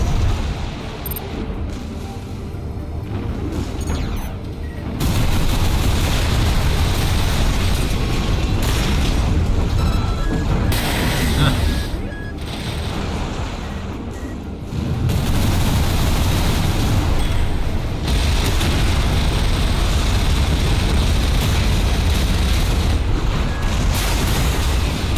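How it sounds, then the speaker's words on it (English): Missile launches and explosions from the mech combat game Armored Core VI: Fires of Rubicon, a dense, loud barrage of booms and blasts that rolls on almost without pause, with brief lulls before surging again. "I can pepper him from a distance with some missiles"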